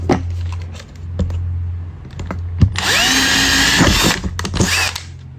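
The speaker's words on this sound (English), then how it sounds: "we also need to drill a center hole" A power drill whines loudly for about a second and a half, rising in pitch as it bites into a drink can, after a few clicks and taps, then brief bursts again.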